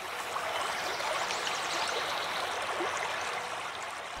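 The Crna River in Pelagonia, swollen by autumn rain, flows in a steady close broadband rush with fine bubbling detail, continuous and even throughout with no voices.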